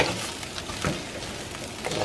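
Shrimp fried rice, Thai style, being stirred and tossed in a hot pan, with a steady close sizzle and the scrape and clatter of turning rice running throughout, no voices.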